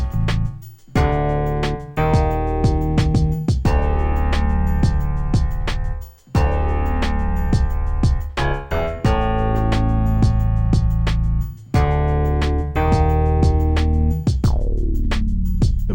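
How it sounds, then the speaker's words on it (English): Hybrid synth patched as a Moog bass with chorus plays a thick, sustained bassline over a punchy MPC drum beat, loud and continuous with steady kicks and snares and brief gaps between phrases. "I also have an instance of Hybrid which is set up as a Moog bass chorus,"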